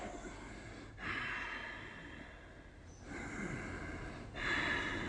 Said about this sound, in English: we're going to continue the breath we just did